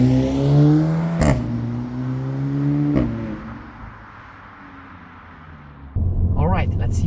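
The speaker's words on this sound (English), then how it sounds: "After every shift you get a pop." Audi S3 engine revving through gear shifts, rising tones cut by sharp exhaust pops at each shift, then a fresh surge of acceleration close and loud.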